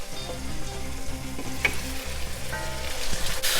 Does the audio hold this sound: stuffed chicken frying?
yes